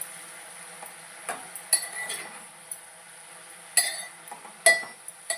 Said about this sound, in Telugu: చూడండి, ఫ్రై అవుతున్నాయి